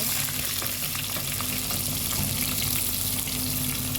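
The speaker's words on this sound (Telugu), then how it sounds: "మనం ఇప్పుడు ఉల్లిపాయలు వేసుకుందామండి." Onions dropped into hot oil for a dhaba-style egg curry, giving a loud, continuous close-up sizzle and crackle that stays steady throughout, with no voices.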